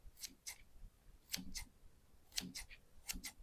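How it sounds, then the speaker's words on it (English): Dollar Tree kitchen shears snipping through meat, four pairs of quick crisp metallic cuts spaced about a second apart, close and quiet with no voices. "let's see if it'll cut some meat. It's got some teeth there."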